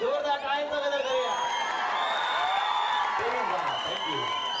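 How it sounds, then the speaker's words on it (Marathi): A kabaddi match crowd breaks into loud, sustained applause mixed with cheers and whistles, and voices carry over the clapping throughout. "चला दोन्ही सगळ्या तुम्ही जोरदार टाळ्यांचा गजर करूया"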